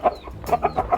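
Borneo Super rooster clucking in short bursts, about five close, moderately loud clucks in an uneven rhythm during semen collection, with no voices.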